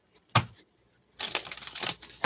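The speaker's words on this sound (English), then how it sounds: "One more shuffle." A deck of cards shuffled during a reading, a short riffle followed by a longer, louder burst of rapid crisp flutter, close and alone.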